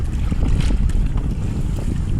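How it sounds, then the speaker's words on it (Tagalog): Strong wind roars steadily across the microphone, a dense low rumble with gusting texture and no talk. "malakas ang hangin"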